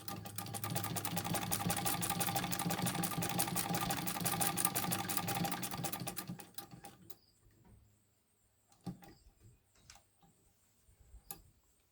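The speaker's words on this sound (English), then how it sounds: "so now we're sewing 4 thicknesses of denim" A Singer 66 Red Eye sewing machine stitching through four thicknesses of denim, a rapid loud mechanical clatter for about six seconds that stops, followed by a few quieter clicks and handling knocks.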